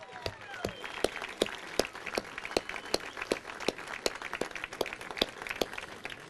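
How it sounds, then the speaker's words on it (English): A small outdoor feast crowd at the Feast of the Blessed Sacrament gives a round of applause, a sparse scatter of individual claps with a few sharp nearby hand claps standing out over a thin background murmur. "I just ask everybody to join me in a round of applause for Jane"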